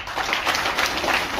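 An audience claps in bursts of fairly quiet, rapid applause, filling the short moment without talk.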